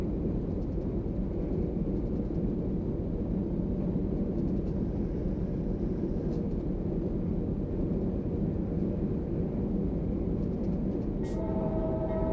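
A CSX freight train hauling autoracks rolls past in a train simulator, a steady loud rumble of wheels and cars throughout, with a brief higher tone near the end.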